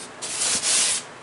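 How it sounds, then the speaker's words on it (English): Sanding board rubbing across a model cab part for a 1952 Chevrolet build makes two or three close, raspy strokes, each rising and fading over about a second, with no voices. "But basically just using the sanding board."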